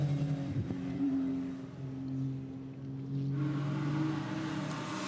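Honda NSX GT3 race car on the Barcelona circuit during a Blancpain GT Sports Club qualifying session, its engine droning steadily at a distance and rising in pitch toward the end.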